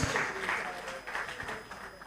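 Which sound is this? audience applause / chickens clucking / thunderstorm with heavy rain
audience applause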